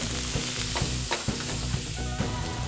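Zucchini and eggplant fry in olive oil in a hot pan, a dense, continuous sizzle with occasional stirring scrapes and crackles close up, with no talking.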